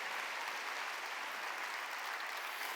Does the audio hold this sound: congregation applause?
yes